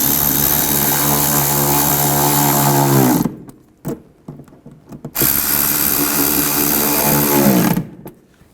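A power driver runs hard on the rear reflector of a 2010–2017 Chevrolet Equinox, two loud sustained whirring bursts of about three seconds each, separated by a brief pause with a few small clicks and knocks.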